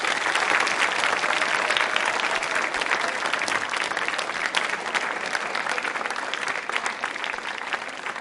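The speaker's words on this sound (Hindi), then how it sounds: "संकल्प के रूप में जोरदार तालियां बजाइए आप" Audience at a school quiz show held at a public school applauding, a dense sustained burst of clapping from a large crowd that carries on steadily for several seconds.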